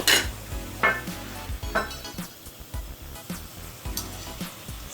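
Crackling sizzle of mixed onion pakoda frying in hot oil, steady and close, with occasional clinks and scrapes of a utensil against the pan.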